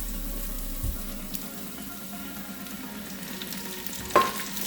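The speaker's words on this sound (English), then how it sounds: "So now we're gonna add our 1 cup of spinach." Spinach goes into a hot omelette pan, where the frying eggs give a soft, steady sizzle, with a brief clatter near the start and a sharper clink of the pan toward the end, without any talk.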